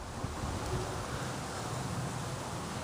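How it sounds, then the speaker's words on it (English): Steady wind ahead of Hurricane Sandy rushing and buffeting a microphone, a continuous broadband roar with no voices. "it's getting a little bit windy, starting to move in"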